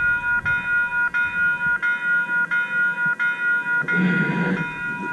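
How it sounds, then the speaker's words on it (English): A CN freight train passes a level crossing at Isabella Street in Parry Sound, its crossing bell ringing in a steady repeating rhythm while the rumble of the train grows louder and a horn-like burst sounds near the end. "We got a train coming down the line in Perry Sound at Isabella Street."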